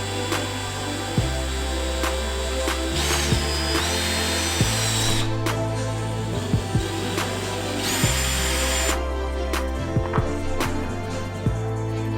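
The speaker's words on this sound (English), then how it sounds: "I've clamped down a scrap piece of wood on the underside of the door so that when I drill" Power drill boring through a wooden sliding barn door with a scrap block clamped underneath, steady loud motor whine in repeated bursts with brief pauses and pitch shifts as the bit bites, close and alone.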